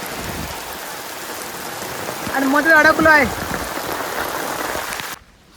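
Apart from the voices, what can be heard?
heavy rain falling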